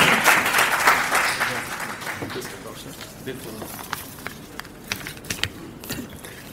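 Audience applause at a speaking event, loud and dense at first, then fading into scattered individual claps with some murmuring voices underneath.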